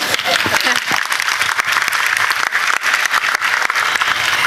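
Audience applause at a Nanda Ki Katha stage performance from Uttarakhand: steady, dense clapping fills the whole stretch at close range, with voices mixed in underneath.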